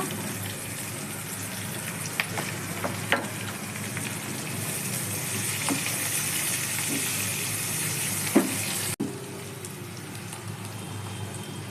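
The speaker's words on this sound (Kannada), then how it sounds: "ಹಸಿಮೆಣಸೆಲ್ಲ ಫ್ರೈ ಆಗ್ತಿದೆ ಮತ್ತು ನಾವು ಹಚ್ಚಿಟ್ಕೊಂಡು ಈರುಳ್ಳಿ ಹಾಕ್ಕೊಳ್ಳೋಣ" Chopped onions sizzle in hot oil with green chillies, ginger and curry leaves in a pan, a steady loud frying hiss with a few faint clinks from stirring.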